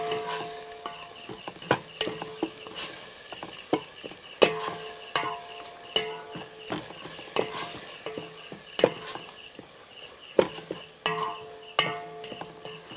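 Spices frying in a pan for a Telugu home-style dish: a steady low sizzle broken by repeated sharp scraping and clinking of a spoon against the metal pan as it is stirred, close up with no talking.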